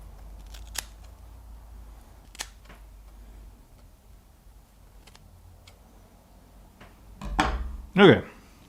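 Scissors snip through beard hair during a homemade paint brush project, a couple of close, crisp cuts near the end after a few light clicks and handling noises, with quiet room tone and no talk.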